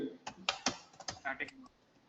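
Fast, irregular clicking of keys on a computer keyboard while someone writes Java servlet code, close and fairly quiet, bursts of keystrokes with a faint voice nearby.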